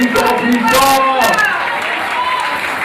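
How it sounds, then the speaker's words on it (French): Applause and crowd noise from the audience at a children's concert in a Nazarene church, heard under a voice talking over it, lasting a few seconds. "Applaudissez plus fort, plus fort, plus fort"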